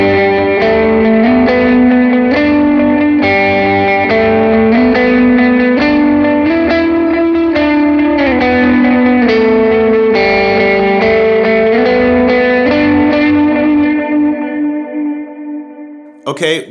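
An electric guitar played through drive, dual delay set to dotted-eighth and quarter-note repeats, and a cloud reverb sounds out a sustained melodic line from a worship song, with echoing repeats and a big wash of reverb, loud and alone, fading near the end.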